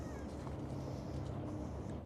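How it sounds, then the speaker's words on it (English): A cat meows in a dusty shed near a 1969 Toyota that has sat parked for 33 years. The cry is brief and faint beneath a steady low rumble. "We got the kitty."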